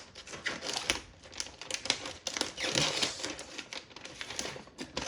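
Plastic and paper packaging crinkles and tears as it is unwrapped and peeled off a 2021 Asus ROG Zephyrus M16 gaming laptop with RTX 3070, a close, busy rustle with sharp crackles throughout and no talk.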